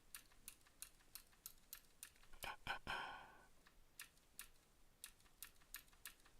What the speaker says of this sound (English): the game noises with the keyboard clicking